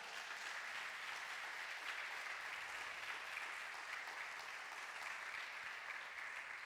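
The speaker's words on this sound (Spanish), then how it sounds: "Usted debería darle un aplauso al Señor" A church congregation applauds steadily and loudly throughout, a dense, even wash of clapping with no pauses and no clear speech.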